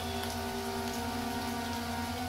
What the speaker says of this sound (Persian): بارون داره میاد.